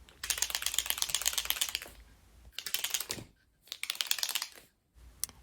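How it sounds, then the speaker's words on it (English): A chalk marker is shaken hard, its internal mixing ball rattling in fast, dense bursts: a long run of rapid clicks, a pause, then two shorter bursts and a final brief one, close and with no voice. "You're going to want to give your chalk marker a really good shake."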